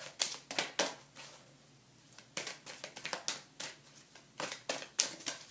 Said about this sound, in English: they're still telling me to shuffle my deck